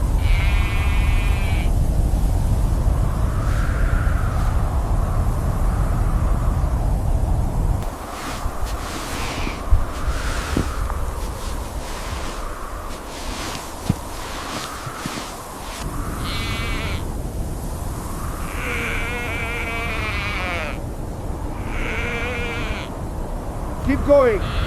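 Sheep bleat repeatedly in a blizzard, several calls near and far over a low roar of wind, with people talking at times.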